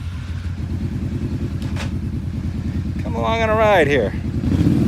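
Kawasaki KFX700 ATV engine idling and running after a rear head gasket replacement, a steady low throbbing pulse that keeps cutting out unevenly, with a person talking over it partway through.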